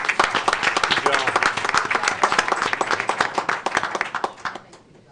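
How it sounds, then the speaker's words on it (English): Audience applause at a school board of education meeting, dense steady clapping from a room full of people that carries on for several seconds before thinning out and fading at the end. "Another round of applause."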